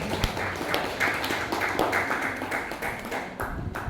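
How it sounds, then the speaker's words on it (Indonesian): An audience claps together at the close of a presentation at an education training session, with steady, dense applause and a few sharper individual claps standing out, with no voices. "tepuk tangan untuk hari ini"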